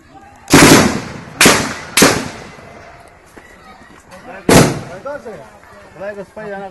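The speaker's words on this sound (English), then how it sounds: "When U.S. troops a short way down the road see someone who they believe has a gun on the roof of the house, they too open fire." Gunfire from U.S. troops in Afghanistan, a handful of sharp, loud blasts spaced irregularly, with a shouted voice and talk heard between and after the shots.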